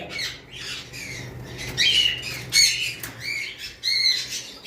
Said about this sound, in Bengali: আমাদের কাছে রয়েছে এক পিস ক্রিমসন বেলি কুনুর